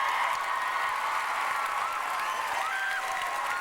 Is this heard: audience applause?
yes